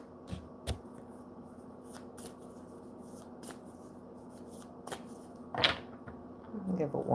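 Tarot cards shuffled once in a brief riffle near the end, against a quiet room with a steady low hum and scattered soft handling taps.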